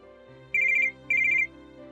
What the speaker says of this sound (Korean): 직후 전화.